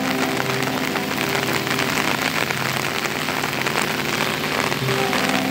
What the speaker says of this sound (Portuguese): Chuva demais, bom demais, chovendo.